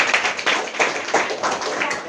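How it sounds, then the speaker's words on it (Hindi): Loud applause from an audience at a business presentation event, a brief burst of crowd clapping with uneven swells. "एक बार जोरदार तालियां रेखा जी को"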